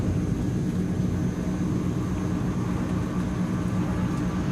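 A Transall C160 twin-turboprop cargo plane climbing after takeoff in Microsoft Flight Simulator, giving a steady, heavy engine drone with a low rumble and faint whine, constant and unbroken.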